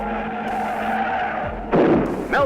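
Race cars skid and spin to avoid a wreck, with engines droning, a sharp tire squeal and skid bursting in near the end, and short whooshes passing close by.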